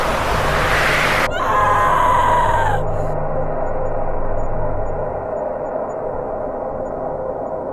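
A strange, eerie drawn-out scream rises and trails off once over a steady background hiss.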